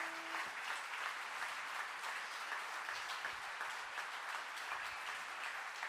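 Steady audience applause following a song at the Glas življenja 2015 concert, a dense even crowd clapping sustained throughout at moderate level, a lingering tone fading in the first half second.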